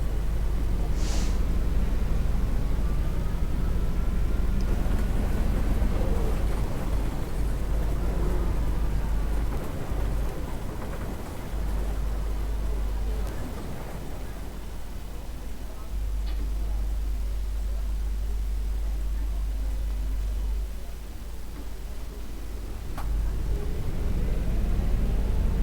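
A city bus in the OMSI 2 driving simulator pushing through a Hamburg snowstorm, with a deep, continuous engine drone and rumbling road noise that swells and dips over about 25 seconds.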